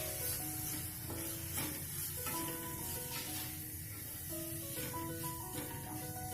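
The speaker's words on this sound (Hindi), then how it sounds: "सारे मसाले हमें अच्छे से फ्राई कर लेने हैं।" Pav bhaji masala spices frying in a pan give off a steady, continuous sizzle throughout, with background music playing over it.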